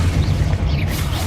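A Confringo fire-blast spell bursts in Hogwarts Legacy, a short heavy booming explosion with a deep low rumble and a brief fiery crackle.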